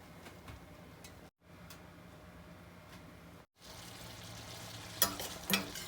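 Pointed gourd (parwal) curry cooking on a low flame, with a soft, steady sizzle and faint stirring scrapes, quiet and close, broken by two brief gaps and a few clinks near the end.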